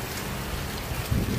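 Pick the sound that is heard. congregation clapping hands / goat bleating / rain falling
rain falling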